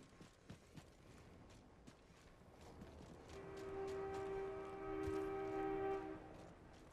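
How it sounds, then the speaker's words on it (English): A train horn in the Apex Legends video game sounds a long, steady honk from a moderate distance, rising over footsteps and ambient game noise. "That train is honking."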